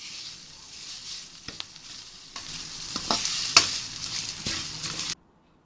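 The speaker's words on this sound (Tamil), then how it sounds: "அந்த தூதுவளை இலையை உள்ளே போட்டுக்கோங்க. போட்டுட்டு நல்லா வதக்குங்க." Thuthuvalai leaves sauté in a pan over a low flame, with a soft continuous sizzle broken by scraping stirs and sharp spatula clicks against the metal before the sound cuts off abruptly.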